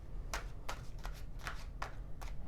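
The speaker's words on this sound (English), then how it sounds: "Shuffle the cards." Tarot cards are shuffled in a series of soft, quick riffling bursts, about seven of them in irregular rhythm, close and quiet.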